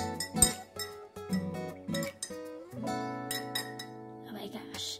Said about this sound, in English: Time to stir that tea.